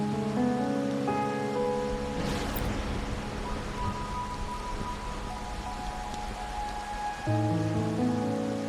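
Rain falls at night in the video game Wuthering Waves, a soft, steady patter on surfaces heard beneath a background of music tones, fairly quiet and continuous throughout.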